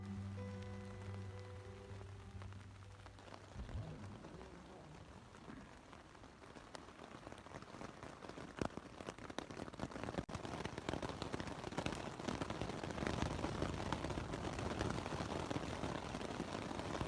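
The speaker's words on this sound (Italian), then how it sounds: "come sentirete sta incominciando a piovere anche in maniera importante" Rain falls on the fabric of a Cloud Up Pro tent, heard from inside, starting quiet with a low hum and building after a few seconds into a dense, loud patter with sharp individual drops.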